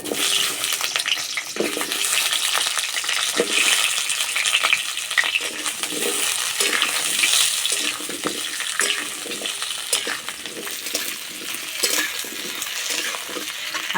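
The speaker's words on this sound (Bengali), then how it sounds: "তেলে আলু ভেজে নেব।" Potatoes fry in mustard oil in a wok, a loud continuous sizzle broken by repeated scrapes and stirs of a spatula throughout; no talking.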